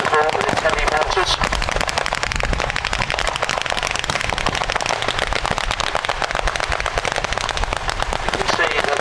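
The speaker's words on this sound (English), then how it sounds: "Rear trench still giving fire support with heavy mortars." Dense, continuous battlefield barrage from a land battle reenactment, with heavy mortars firing from a rear trench amid rapid overlapping bangs and pops, loud and sustained throughout, with voices faintly mixed in.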